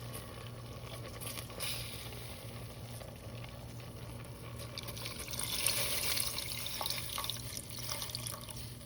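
Water is poured into pappu charu, a Telugu lentil stew, giving a soft continuous splashing and trickling that swells slightly midway. It is faint and close, with a low steady hum beneath.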